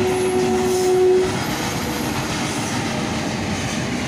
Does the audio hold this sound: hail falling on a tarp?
no